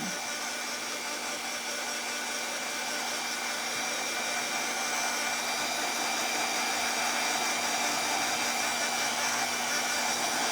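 A heat gun blows continuously over fresh paint on a craft sign, a steady airy whoosh holding even and fairly loud for the whole stretch with no voices.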